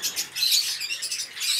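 Exotic finches chirp in a breeding aviary, making a dense, continuous twitter of high, close calls from many birds at once. No voices are present.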